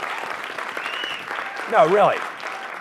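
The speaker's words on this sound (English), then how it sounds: "I want you to give a big round of applause for you" Audience applause at a college elevator pitch competition evening, a broad wash of clapping running under a voice throughout, swelling louder for a moment near the middle.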